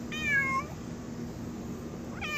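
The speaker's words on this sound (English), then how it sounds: "here we are with this stray cat that don't want to shut up." A stray cat lets out two loud, drawn-out meows close by, one at the start and another beginning at the end, separated by a quiet pause with faint background hum.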